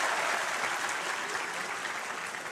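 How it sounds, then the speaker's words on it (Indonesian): A crowd applauds a participant named Antonius at a public discussion event in Purwokerto, producing dense, continuous clapping at full volume throughout, with no speech audible. "Ya, kasih tepuk tangan dulu buat Antonius."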